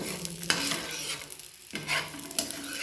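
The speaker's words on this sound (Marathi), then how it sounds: "शेंगदाणे भाजीपर्यंत याला असंच हलवत राहायचं" Peanuts are stirred while they roast in a hot pan, giving a steady scraping, rattling and faint sizzle, with two sharper strokes. The sound is close, and there is no talk.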